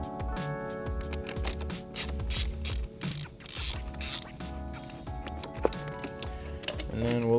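A ratchet with a 10 mm socket loosens the battery terminal on a VW/Audi MK7-generation car, giving rapid close clicking bursts with metallic clatter while someone talks over it.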